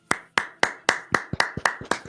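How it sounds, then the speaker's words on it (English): An audience claps slowly: about nine sharp, close hand claps in an even, unhurried rhythm, with no voices over them. "You hear the slow claps of the audience going through."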